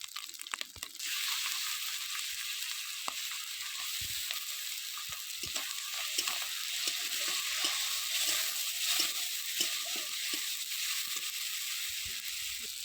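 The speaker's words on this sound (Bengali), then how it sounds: "ভেজে লাল করে নেব দিয়ে দেব টমেটো বাটা" Tomato paste frying with ginger in hot oil for a thin Bengali fish curry, giving a steady bright sizzle throughout with scattered stirring clicks and scrapes, close and continuous.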